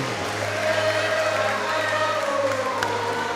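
Sustained applause fills a church during a wedding vow renewal for an elderly grandfather and grandmother, a dense, steady wash of clapping from a large congregation, with a held musical tone running underneath throughout.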